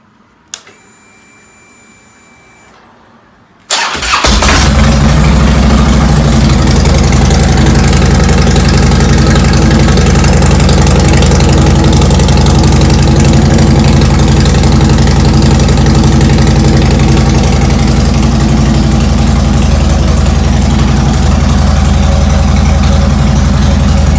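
A motorcycle engine, repaired after an ignition switch fix, starts up after a few quiet seconds with a faint tone, then runs loud and steady at idle, close up, with no talk.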